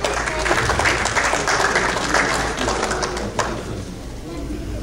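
An audience applauds at an international mushaira poetry gathering as a poet is welcomed to the stage: a dense, sustained round of clapping that gradually fades, with a voice heard over it.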